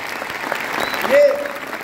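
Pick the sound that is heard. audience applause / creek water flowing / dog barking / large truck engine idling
audience applause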